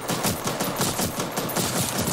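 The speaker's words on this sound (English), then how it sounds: "And he's shooting at me, too." Rapid automatic gunfire in the Roblox game Oil Warfare Tycoon, a dense rattling burst of shots repeating steadily and loud throughout.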